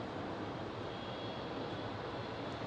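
A Jetstar airliner pushes back at Melbourne Airport, its engines giving a steady, dense roar that stays even throughout, close and loud with no voices.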